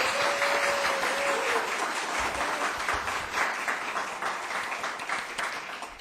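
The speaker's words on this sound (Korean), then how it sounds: "다시 한번 우리 힘찬 박수로 한번 전해드릴까요?" Steady applause fills a church congregation during a Wednesday service, a dense even clatter of many hands that holds at a constant level for several seconds, with a faint sustained tone briefly underneath.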